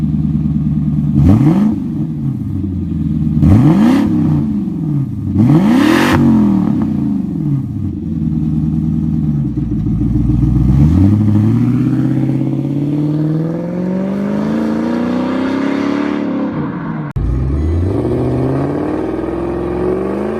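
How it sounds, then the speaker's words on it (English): A 4-liter dual overhead cam V8 from the Lexus LS400 and Toyota Soarer revs hard several times, each blip rising and falling, then settles into a longer climb and drop, loud and close with a smooth idle between. "Found in cars like the Lexus LS400 and Toyota Sora, this 4-liter dual overhead cam V8 was designed to last over 1 million kilometers"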